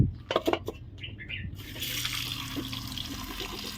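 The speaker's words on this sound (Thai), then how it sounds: "เสร็จเรียบร้อยก็จัดการล้างเอามาแช่ไว้ก่อน" Tap water runs while pumpkin shoots are washed, starting with a few clinks and handling sounds before a steady, close rush of water fills the rest.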